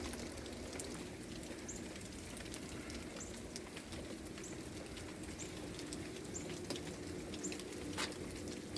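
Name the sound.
rain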